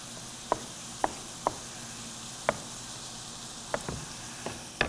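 A kitchen knife slices slabs of tomato into strips on a cutting board while making veggie fajitas, giving about seven crisp, separate knocks spaced unevenly over a faint sizzling background.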